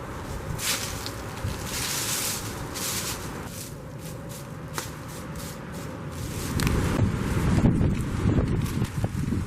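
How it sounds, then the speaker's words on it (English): Gusty wind buffeting outdoors, rising and falling, with occasional light rustles and taps nearby; no one speaks. "A little windy though"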